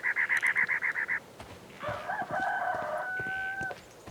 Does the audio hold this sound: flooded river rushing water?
no